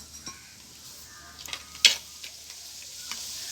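Chopped garlic frying in a pan with ginger for a lemon pickle, a quiet sizzle under a few spoon stirs and scrapes, with one sharper clink of utensil against the pan.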